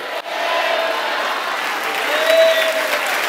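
A congregation at a Shiloh Church of Christ service applauds for a sustained stretch, producing even, dense clapping that swells slightly midway, with faint tonal sounds underneath.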